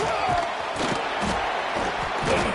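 A stadium crowd in the NCAA 26 football video game roars steadily after a punt return, a dense, loud wash of cheering that fills the whole moment without a break.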